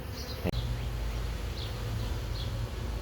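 Honeybees drone softly around a healthy hive outdoors, a low continuous hum with a few individual bees buzzing past close by, and a single sharp knock early on.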